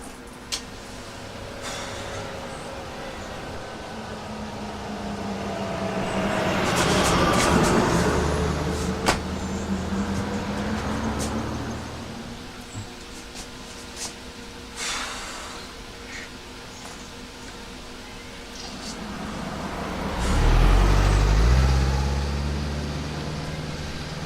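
Rainy street traffic: cars and a bus swell past one after another, their engines and tyre hiss rising and fading, with the heaviest vehicle rumbling close near the end over a steady wet background wash.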